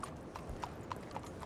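Horse hooves clip-clop in a steady rhythm of five or six clear, evenly spaced clops in a video game, quiet and close with a soft background bed.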